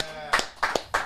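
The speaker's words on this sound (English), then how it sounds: "Let's clap it up 20, for that." A small audience claps in three short bursts, each a brief flurry of hand claps that quickly fades, following a moment of talk.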